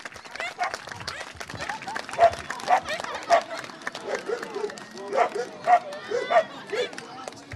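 Dog barking in short repeated bursts while a handler plays with it using a rolled-up towel as a toy at a dog event, with crowd noise and people talking throughout.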